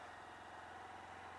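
A motorcycle engine runs at low speed as the clutch is let out, a quiet, steady low hum with an even rumble and no noticeable change in pitch across the short stretch.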